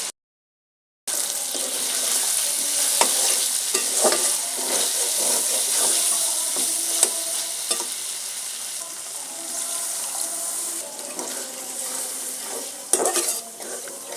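Pigeon meat curry with new potatoes frying and being stirred in a pan, a steady close sizzle with scraping spoon strokes throughout after a brief silent start.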